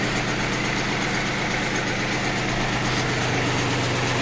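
A Yanmar F18D Japanese compact tractor engine idles smoothly and steadily, a close, loud, even diesel rumble with constant vibration and no other sounds over it.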